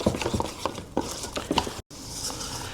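A utensil scraping and stirring around the sides of a bowl of fish batter flavored with ginger, a quick series of close wet scrapes and taps with a short pause near the end.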